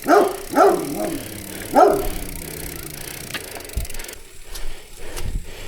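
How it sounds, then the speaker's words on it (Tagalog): A large dog barks three times in quick succession early on, loud and fairly close, then the scene settles into low outdoor rumble and faint background noise during a gravel cycling race. "Ay, aso, laki."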